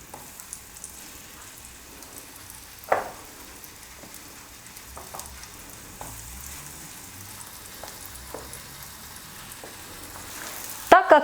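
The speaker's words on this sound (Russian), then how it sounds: "Итак, кабачки начинают жариться." Quiet, steady sizzle of zucchini slices frying in sunflower oil on a stove, with occasional soft pops and clicks and a few clattering knocks at the end.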